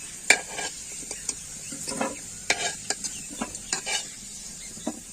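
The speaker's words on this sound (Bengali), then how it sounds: "আমার আলু কিনে লাল লাল করে ভাজা হয়ে গেছে" Repeated scraping and metallic clinks of a spatula turning potatoes in a pan over a soft, constant sizzle of frying until browned.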